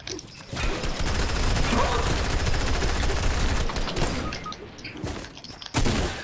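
Sustained gunfire in the video game Fortnite, a dense continuous fusillade of rapid shots running almost the whole stretch, loud and close, with a brief lull before a final burst.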